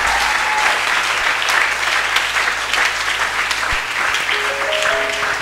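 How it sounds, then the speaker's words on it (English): A church congregation claps in loud, dense applause, many hands sustained throughout the short burst with no break. "give a hand clap to Jesus."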